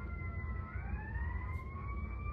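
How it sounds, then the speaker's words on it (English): Emergency vehicle sirens wail outside, rising and gliding tones passing at moderate distance over a low background rumble, with no one speaking. "God, we bless these sirens."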